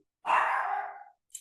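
A single loud dog bark, drawn out into a short howling tail, then a faint brief yip, isolated against silence.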